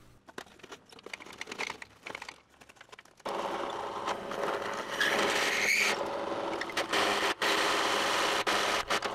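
A 20 mm drill bit from a cheap multipack boring through metal for a homemade decoiler, a steady grinding whir that starts abruptly and runs loud and continuous with a rising squeal partway through.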